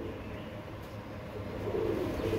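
Soft, low cooing of Royal Teddy pigeons that swells toward the end over a dull, steady background hum.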